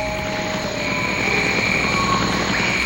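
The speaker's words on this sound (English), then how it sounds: "Having attained some altitude, Nicolas cuts the engine." A steady engine drone from a small dirigible with a high whine on top, continuous and fairly close, no voices.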